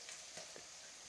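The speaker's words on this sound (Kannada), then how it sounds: "ಈ ಥರ ಇವಾಗ ಇದು ಫ್ರೈ ಆಗ್ತಾಯಿದೆ" Homemade noodles fry in a pan over high flame, giving a faint, soft, steady sizzle with a few light crackles and stirring scrapes.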